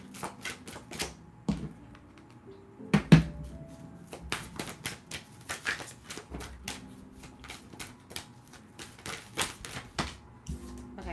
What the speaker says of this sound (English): Let me just pull some cards before I start speaking.